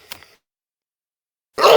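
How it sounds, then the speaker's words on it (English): A single short sneeze bursts out near the start, sharp and close, followed by over a second of silence and then a loud, dense burst of noise at the end. "this topic makes me sneeze"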